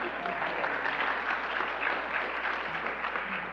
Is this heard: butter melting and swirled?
no